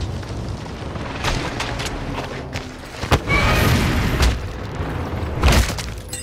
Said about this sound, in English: Target appears hostile. Launching a rocket.